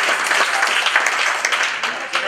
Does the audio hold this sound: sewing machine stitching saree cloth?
no